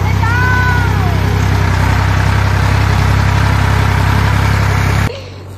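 A tractor engine runs steadily in a farm field in India, a loud continuous low rumble and drone that cuts off abruptly near the end, with a brief voice-like tone early on.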